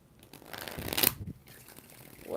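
A deck of tarot cards shuffled up close, one quick papery riffle swelling to a sharp peak and then fading into faint handling rustle, heard alone without speech.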